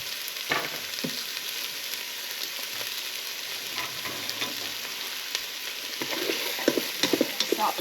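Onions sautéing in olive oil for beef burgundy give a steady, close sizzle, with a few scraping stirs of a utensil in the pan and no voices.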